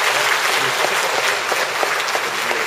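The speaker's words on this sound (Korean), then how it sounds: "네 박수 부탁드립니다" Audience applause at the opening ceremony of a poetry recitation event, steady and fairly loud throughout with individual claps audible in the wash.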